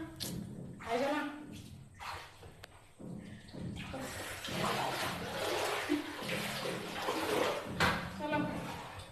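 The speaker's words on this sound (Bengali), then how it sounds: "এই দেখো জল থই থই করছে" Water sloshing and splashing inside a house flooded after rain, a continuous watery wash with some knocks, close by, under a voice speaking.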